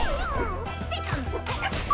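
A dog character yelps and whimpers briefly in the fighting game Them's Fightin' Herds, mixed with hit effects and game sounds during a match.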